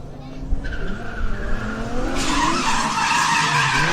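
Drift cars in a pro-am tandem battle, the lead car half-spinning: engine roar with loud tire squeal and skidding rising into a sustained screech, with commentary running over it.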